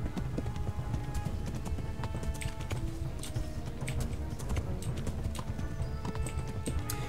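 Galloping horse hooves in the medieval video game Kingdom Come Deliverance, a fast continuous clip-clop rhythm at steady loudness with no talk over it.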